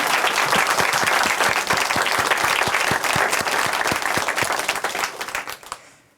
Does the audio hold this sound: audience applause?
yes